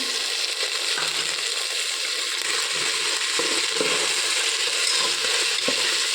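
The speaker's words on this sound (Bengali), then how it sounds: "ভালো করে মশলাটাকে আর একটু কষিয়ে নেব।" Onion, salt and ginger-garlic paste fry together in a pan for a Gobindobhog rice pulao. The sizzle is steady and fairly loud, with scattered clinks and scraping from stirring, and no voices.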